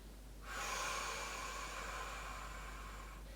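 A long, steady exhale through the mouth or nose during a slow morning stretch, a soft breathy hiss that starts abruptly and holds for about three seconds, close and quiet with no talk.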